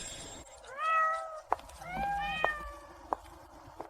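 A cat meows several times, drawn-out rising and falling calls spread across a few seconds, with a few sharp clicks in between and no talking.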